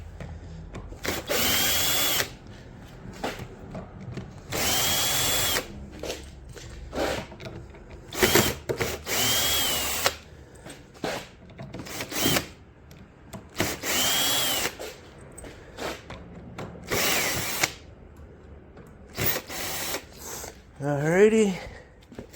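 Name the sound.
power drill removing screws from resin bar table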